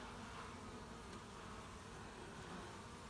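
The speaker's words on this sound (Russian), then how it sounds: "И у нас, похоже, не один, а два роя к нам прилетели." A swarm of honey bees drones at an apiary with a faint, even, continuous buzz that holds steady throughout, no voices.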